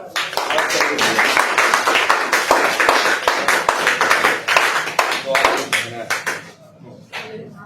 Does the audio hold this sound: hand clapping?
yes